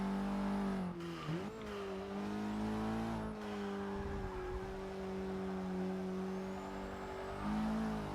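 Racing car engine from Forza Motorsport 6, a hot hatch on a track, holding a loud steady high drone with brief gear-shift dips and revving swoops, tires and track noise underneath, no talk.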